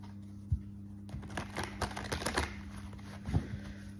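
Tarot cards are drawn from a deck and laid down, producing quiet close flicks and soft slaps in a brief cluster, with a couple of sharper taps at the start and end over a low hum.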